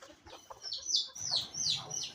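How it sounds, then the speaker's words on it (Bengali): Several chickens squabble and fight at close range, a run of sharp, agitated squawks and clucks rising over a low scuffling background. "দেখছেন আমার মুরগিগুলো কিভাবে মারামারি করে,"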